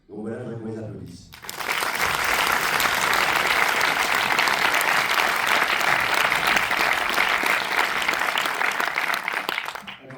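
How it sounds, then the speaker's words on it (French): A voice speaks briefly before an audience at a film screening with the film team present breaks into applause, a broad, steady roar of clapping that holds loud for several seconds and then fades slightly. "je voudrais qu'on les applaudisse"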